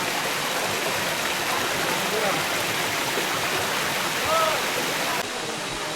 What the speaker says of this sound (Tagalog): Ito yung tinatawag na Kinabuan Falls.